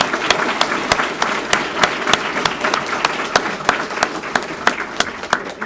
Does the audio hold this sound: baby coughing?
no